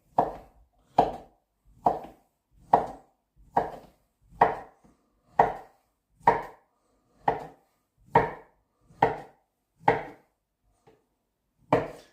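A knife chopping meat and sausage on a board for Swedish pyttipanna, about a dozen evenly spaced, solid close thuds with short pauses between them, no voices.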